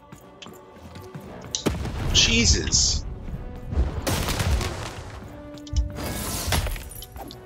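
Cannons boom in the video game Lost in Random, three heavy blasts spaced a couple of seconds apart with crashing debris after each, loud and close, while a man exclaims in between.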